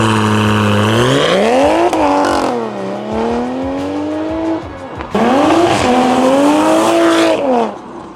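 A 2020 Toyota Supra fitted with an aftermarket downpipe revs hard and close, its engine note climbing, dipping and surging again in two loud bursts, with no voices.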